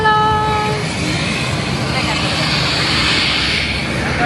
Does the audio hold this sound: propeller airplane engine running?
yes